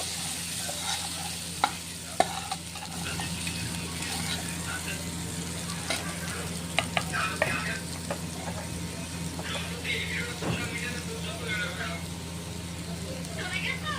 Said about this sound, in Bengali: নেড়ে দেখি ছোলাটা সিদ্ধ হয়েছে কি।